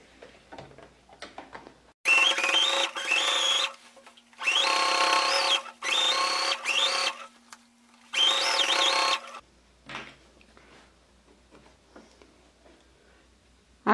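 Sewing machine stitching fabric for a crossbody or notebook bag, running in several whirring bursts of a few seconds each with short pauses between, in a quiet room.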